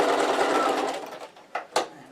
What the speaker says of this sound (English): Now you need to do a locking stitch here, because that's going to take a little bit of pressure when you put something in the pocket.